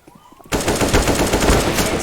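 Rapid automatic gunfire in the video game CS:GO bursts in suddenly, loud and continuous with dense overlapping shots after a quiet start.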